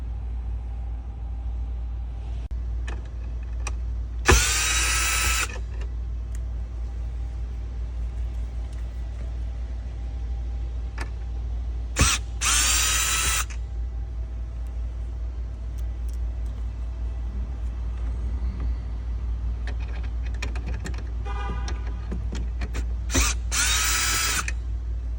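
A power drill runs in three short, loud bursts while removing bracket screws from the side camera interface module area of a car, with a steady low hum filling the pauses.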